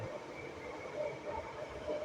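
An LRT light-rail train arriving rumbles and hisses with a steady low roar and faint squeals, moderately loud and continuous, with no talking.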